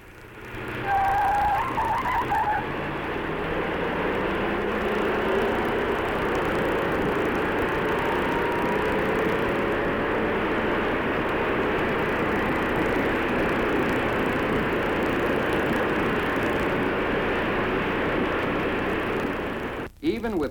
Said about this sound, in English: let's take a smaller Impala, the 283 V8, and see what it can do against the Galaxie 352